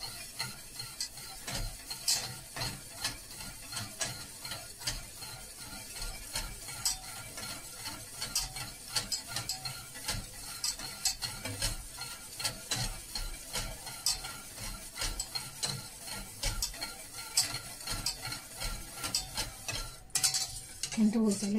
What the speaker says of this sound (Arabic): غادي نبقى نحرك كنواصل التحريك. الخليط هو بدا يتقال